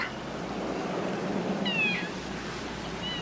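Cat meows twice at moderate distance, a short drawn-out cry followed by a softer brief one, over a quiet indoor background.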